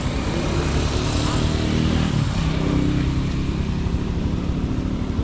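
A motorbike engine runs continuously on a road journey from Kisumu, a steady close rumble with a slight rise in pitch partway through, loud and unbroken.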